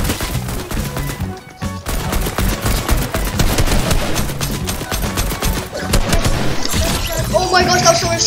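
Gunfire in the Fortnite video game: rapid, loud bursts of automatic shots crackle almost without pause, with a short lull midway and a sharper flurry near the end.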